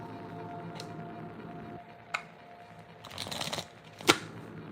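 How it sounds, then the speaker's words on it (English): Tarot cards being shuffled during a reading, with a few crisp riffling bursts and snaps over a steady low room hum, ending in one sharp card snap. "I don't think they wanted me to shuffle that way."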